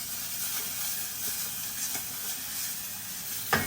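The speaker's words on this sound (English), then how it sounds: "Now we add the sauce in." Mushrooms sizzling and frying in a pan as sauce is added, a steady hot crackle with a sharper splash near the end, no talking.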